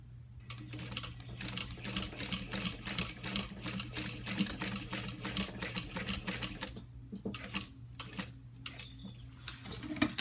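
A sewing machine top stitches fabric in fast, even bursts of needle clatter over a low motor hum. The stitching pauses briefly near the end and then resumes, close and fairly loud.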